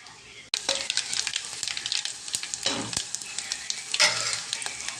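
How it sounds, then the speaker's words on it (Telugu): Sudden burst of sizzling as tempering spices hit hot oil for pappu charu (lentil soup), then continuous crackling and popping with scattered sharp spits, close and fairly loud. "తాలింపు పెట్టాలి"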